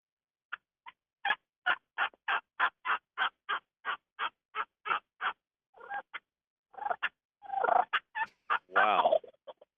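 A man performs a turkey call in a studio, imitating a gobbling turkey with a fast run of sharp, evenly spaced clucks that breaks into rolling, rattling gobbles near the end, loud and close with no talk over it.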